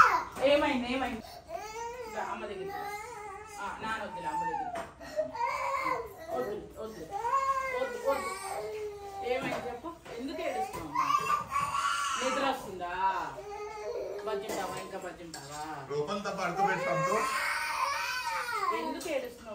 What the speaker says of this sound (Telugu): ఎందుకు ఏడుస్తున్నావు అమ్మా?